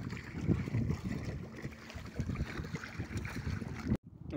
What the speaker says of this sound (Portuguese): Acaba de passar uma lancha lá, já começa a passar outra.